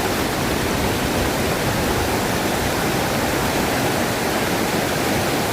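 A river rushes steadily near a waterfall in Kenya, a dense, unbroken roar of flowing water that stays constant and loud throughout, with no voices over it.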